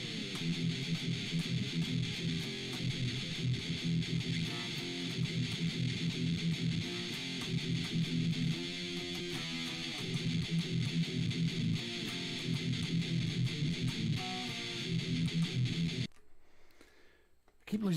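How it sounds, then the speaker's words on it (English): Electric guitar played through a Heretic distortion effect on an iRig Stomp I/O, a loud, continuous saturated tone with chugging rhythmic notes that runs for most of the stretch before cutting out abruptly near the end. "So we've got a heretic distortion here."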